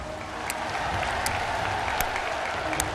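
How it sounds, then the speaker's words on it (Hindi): A large audience applauds at a speech by PM Modi, sustained dense clapping that holds at an even level throughout, with a few sharper cracks standing out above the wash of hands. "जोरों से ताली बजाइए साथियों"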